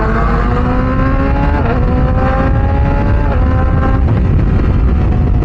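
Motorcycle engine revving and pulling away, a loud close engine drone with rising pitch sweeps as it shifts through gears, overlaid with strong wind rush.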